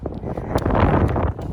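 Strong wind buffets the microphone at Tullan strand beach near Bundoran, a dense, rumbling roar with gusty flutter and no talking.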